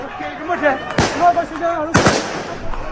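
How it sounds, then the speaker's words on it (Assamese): Police gunshots fired into the air during a clash, two sharp loud cracks about a second apart over a noisy crowd with voices talking. "আৰক্ষীয়ে শূন্যলৈ গুলী চলাবলগীয়া হৈছে"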